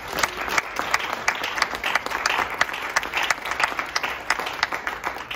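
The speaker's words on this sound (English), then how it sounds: "So let's give a collective round of applause." Steady, full applause from the audience at a student scholarship award ceremony, many hands clapping evenly and fairly close for several seconds with no talking over it.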